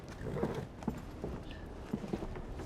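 A horse's hooves clip-clop at a slow walking pace on hard ground in a medieval fantasy setting, a faint, steady rhythm of soft knocks under a low ambient hum.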